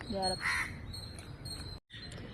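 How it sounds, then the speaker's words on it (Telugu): A crow caws a few times close by, loud harsh calls at the start, then quieter outdoor background while a person speaks briefly. "ఆ కాకి అరుస్తుంది కదా"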